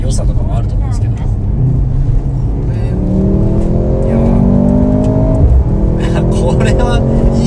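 A Mercedes-AMG C43 W206 station wagon accelerating, its engine note climbing steadily in pitch under loud, continuous cabin and road noise, with people talking inside the car.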